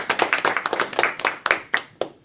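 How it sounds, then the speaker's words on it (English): A small audience at a business talk claps to welcome the speaker, a short burst of loose, close hand claps that tapers off after about two seconds. "let's just welcome Alex with some applause"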